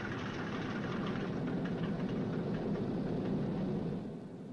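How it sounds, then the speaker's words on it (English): A freshly installed engine on a Boeing B-29 runs a little cranky, giving a steady rough mechanical rumble with uneven knocking pulses that eases slightly at the end, with no speech. "That's a new engine they just put in there. Maybe it's a little bit cranky."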